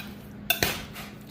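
Boneless wings get stirred in a bowl to coat them, heard as two quick, close clinks of a utensil against the bowl followed by a faint scrape.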